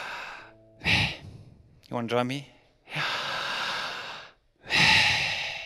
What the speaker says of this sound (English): it sounds exactly like breathing in and breathing out.